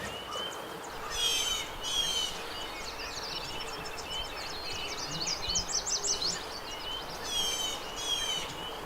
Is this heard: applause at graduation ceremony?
no